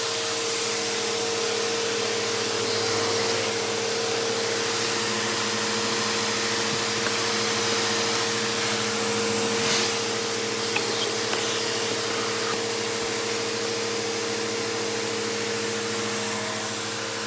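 A Bissell Powerforce Bagless Turbo 6596 upright vacuum cleaner runs continuously with a loud, steady motor whine and airflow roar, close by and without talk.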